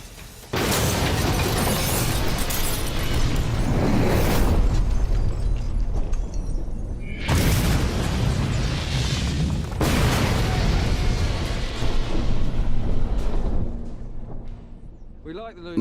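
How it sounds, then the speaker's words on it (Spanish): A homemade Lewis bomb blows apart a modern car with a reputation for being indestructible, giving loud, sustained roaring blasts in several surges that fill the clip, with no talk over them. "la explosión no ha sido muy grande"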